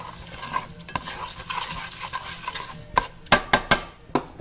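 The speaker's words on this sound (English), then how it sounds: "we're going to stir the rice and the oil together till it browns." Rice being stirred with oil in a cooking pot to brown it: a soft, continuous scraping and rustle, then several sharp, close utensil knocks against the pot near the end.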